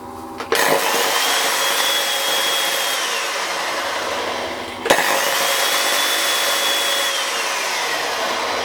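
A heavy-duty 110-volt Flex LW1202 wet stone polisher runs at a loud, steady whine, with a sharp knock near the start and again midway as it is restarted or set down, then spins on evenly.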